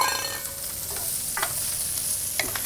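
Shrimp with sliced garlic and white onion fries in a pan, giving a steady close sizzle with a few brief clinks and stirring scrapes, no talk.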